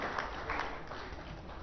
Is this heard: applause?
yes